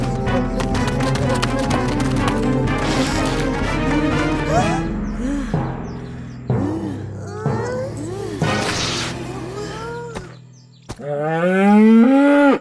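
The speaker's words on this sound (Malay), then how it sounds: "Siapa yang bawa lembu ni ke sini?" A cartoon cow in the animated series Upin & Ipin moos loudly near the end, a long rising bellow that follows a busy stretch of tapping and lively background sound effects.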